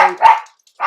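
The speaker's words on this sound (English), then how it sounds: "that's the dog from the photo" A dog barks loudly and close, two quick barks followed by a third after a brief silence, with no talk.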